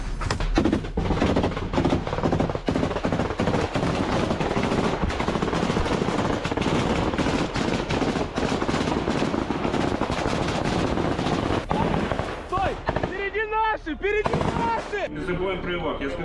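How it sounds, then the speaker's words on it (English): Bradley fighting vehicle firing on trenches: loud, continuous bursts of heavy gunfire fill most of the stretch, dense and close, then give way to quieter rumbling with a few scattered shots near the end. "Bradley opens fire at the trenches."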